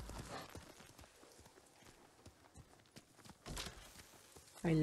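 Horse hooves clip-clop at a steady walking rhythm while riding in the video game Ghost of Tsushima, fairly soft and close, with a brief louder burst of game sound at the very end.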